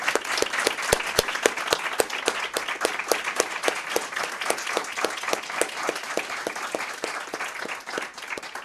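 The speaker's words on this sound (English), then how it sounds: "give all of them a thunderous round of applause" An audience at a public school board meeting gives school principals sustained, even applause, with crisp individual claps standing out against the steady roar of many hands.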